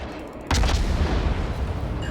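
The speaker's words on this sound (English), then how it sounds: "No power? Just fire the guns, man." World of Warships naval guns fire on a warship, one sharp, loud blast followed by a rumbling boom that rolls on and fades slowly.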